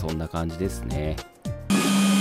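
A cheap, oversized 3D printer runs at maximum speed, its loud, steady whirring hum with a droning tone taking over after someone speaks briefly in Japanese.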